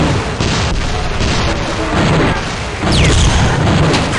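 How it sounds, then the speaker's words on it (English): The kata cannon blows up in the shooter game Gunman Chronicles: a loud, dense roar of booming explosions and crashing debris that runs the whole clip, surging again near the end. "The General's kata cannon has been destroyed"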